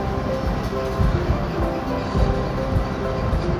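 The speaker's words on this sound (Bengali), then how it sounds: "আর ট্রেনটাও চলতেছে" A moving train heading toward the new Jamuna railway bridge, heard from inside as a steady low rumble with rhythmic clacking of wheels on the rails, continuous throughout.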